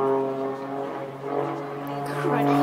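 A propeller aerobatic display plane drones steadily overhead with a strong harmonic engine tone that shifts in pitch as it manoeuvres, heard under talk at a hill climb event.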